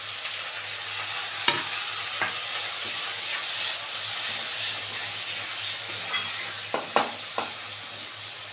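Two tomatoes frying in an oiled pan on a home stove for an egg and coriander dish, a steady soft sizzle with occasional sharp scrapes and knocks of a spoon stirring.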